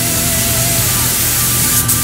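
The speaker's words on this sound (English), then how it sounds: "I'm going to spray three coats of 2K clear on top." DeVilbiss GTI Pro spray gun with a 1.3mm tip and T2 air cap spraying 2K clear coat over painted plastic: a continuous close hiss of air and atomized coating, steady and loud throughout.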